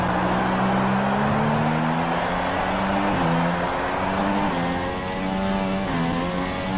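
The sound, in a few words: racing car engine driving a lap, from video game F1 2016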